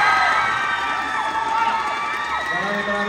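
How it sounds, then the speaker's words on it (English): A pageant crowd at a male Q&A contest in Pasig cheers, whoops and applauds loudly and continuously, a dense roar of many voices with shouts rising above it throughout. "Let's give him a big round of applause"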